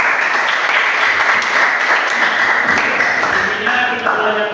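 Classroom applause fills the space, a dense steady patter of many hands clapping at once, fairly loud and sustained throughout with a faint mixed voice murmur beneath it.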